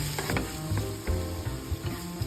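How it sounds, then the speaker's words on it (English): Minced garlic and halved cherry tomatoes sauté in a pan for fish fillet, with a close sizzle and a few clinks of stirring over a short stretch. "in the same pan, we saute 1 head of garlic, minced"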